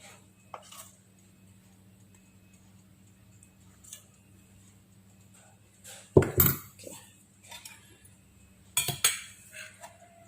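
A spoon scoops three spoonfuls of thick cake batter for a carved sponge cake: faint ticking at first, then two short clusters of close clinks and scrapes against the bowl in a quiet room.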